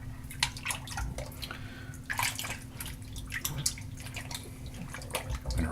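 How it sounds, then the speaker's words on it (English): Tap water runs steadily into a sink while hands are rinsed off after a wet shave, a continuous close splashing with small drips and bursts, no voice. "I'm gonna rinse my hands just a little bit more"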